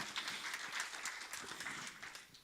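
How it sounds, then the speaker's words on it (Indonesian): A church congregation applauds for Jesus with dense, steady clapping from many hands. The clapping sounds moderately distant and stays fairly even throughout, with no voices on top. "Yang percaya berikan tepuk tangan buat Tuhan Yesus"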